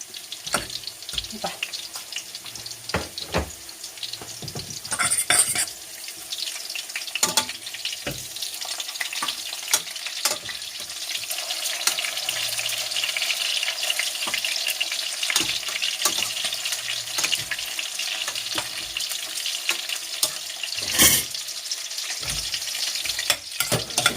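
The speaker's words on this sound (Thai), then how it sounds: "หลังจากนั้นแม่ก็จะใส่เนยนะคะเพื่อที่จะผัดถั่ว" Beans stir-fry in butter with a continuous close sizzle, broken by frequent sharp scrapes and knocks of a utensil stirring the pan; no one speaks.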